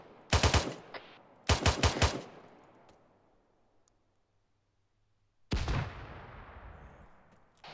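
Gunfire in the military shooter ArmA 3: two separate bursts of rapid automatic shots ring out loud and close, each trailing into a long rolling echo, followed after a quiet gap by a heavy single blast that decays slowly.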